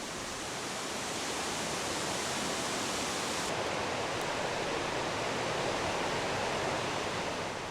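Guryong waterfall in the Kumgang mountains roars with spray in a dense, unbroken wash of loud, close water noise that holds steady throughout.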